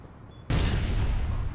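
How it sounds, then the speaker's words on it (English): Grenade launcher explosion in APB Reloaded, a sudden loud booming blast after a quiet moment, with a sustained rumbling roar that fills the rest of the moment. "Sounds like grenade launch is still there somewhere. Yes, he's booming in the same place."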